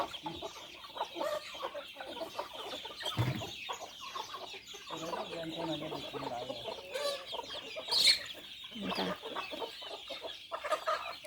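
Chickens of three ages roam free on a Thai home farm, clucking and calling in a busy, overlapping chorus at close range, with a louder squawk partway through and faint farmyard rustling beneath.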